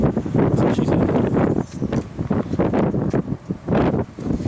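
Wind blows steadily outdoors at night, a loud, gusty rumble buffeting the microphone, with rustling swells rising and falling throughout.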